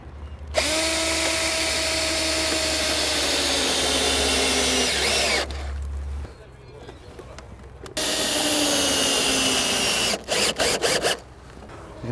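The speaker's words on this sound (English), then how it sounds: "we're drilling our pilot holes for our safety bolts" A power drill boring pilot holes for safety bolts into a wooden rafter, running in two long loud bursts with a steady whine, then short stop-start pulses near the end.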